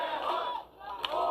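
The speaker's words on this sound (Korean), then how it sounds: "지지자들은 오세훈을 환호하고 있고요" A crowd of supporters cheers and shouts for Oh Se-hoon on his arrival, a dense, moderately distant roar of voices that dips briefly and then swells again.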